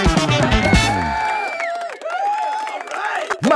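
A studio audience at a comedy podcast bursts into cheering and whoops, loud and crowded at first, then fading into scattered voices and music.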